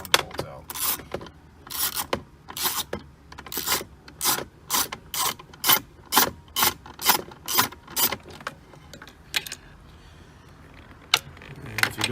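Ratchet on a long extension loosening a bolt behind the dash of a Lincoln Zephyr MKZ: a quick series of rhythmic clicking ratchet strokes, about a dozen in a row, then a few scattered clicks and handling sounds.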